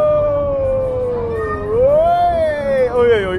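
A cat sounds off in a long, loud, wavering meow-like howl that rises and falls in pitch, close by, amid an atmospheric Efteling theme park setting.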